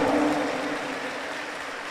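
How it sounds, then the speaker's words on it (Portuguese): A church congregation at a Sunday evening Catholic Mass homily breaks into strong applause, a dense steady wash of clapping that slowly thins toward the end. "Pode dar uma salva de palmas mais forte e um grito de amor ao Senhor."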